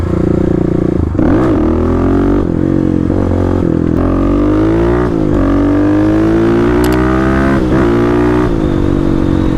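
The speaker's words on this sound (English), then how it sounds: "now let's go ahead and get on the bike" A Kawasaki KLX 250 motorcycle is ridden, its engine loud and close, rising and dropping in pitch through several gear changes.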